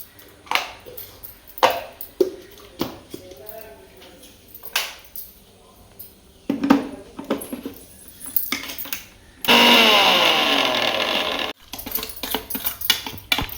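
A mixer grinder coarsely pulses onion, green chilli, garlic, cumin and salt for a garelu batter, a loud whirring burst of about two seconds midway, framed by kitchen clinks and handling noises.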